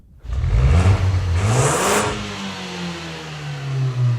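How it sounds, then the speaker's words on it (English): A 2013 turbocharged Ford Focus ST engine revs loudly and close, climbing sharply in pitch and then easing into a steady, droning hum. No voices. "Ford has finally brought over this, the turbocharged Focus ST."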